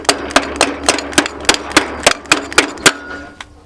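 A small metal tab tapped into place with a hammer during radiator and intercooler pipe fitting on a turbo Honda Prelude: about a dozen sharp, close metallic knocks in an uneven rhythm, then a final lone tap.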